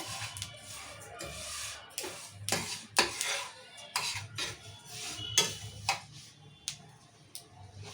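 Sesame seeds crackling and popping in a pan over a low flame while roasting, a dense run of sharp, irregular ticks and small pops close by, with occasional scrapes as they are stirred; no talking.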